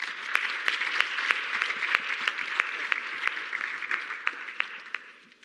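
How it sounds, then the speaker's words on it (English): An audience at a climate resilience symposium applauds a panel, a full, even burst of many hands clapping with a few sharper individual claps standing out, holding steady before tapering off at the end. "maybe a round of applause for the panel."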